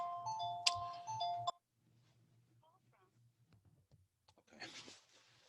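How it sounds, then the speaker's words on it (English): A mobile phone ringtone plays a bright, tonal melody for about a second and a half before being cut off, followed by quiet rustling and a faint voice. "that's my phone. Just let me turn it off."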